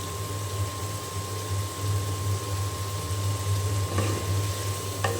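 Potatoes tipped into frying spice masala in a pan, giving a steady, fairly loud sizzle throughout with a constant hum underneath and a couple of brief stirring scrapes near the end.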